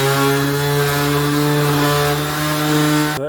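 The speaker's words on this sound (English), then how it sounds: "So straight to 1000 grit on the orbital." An orbital sander fitted with 1000 grit paper works over a hazy, yellowed headlight, giving a loud, steady whine with a slight dip in pitch before cutting off abruptly at the end.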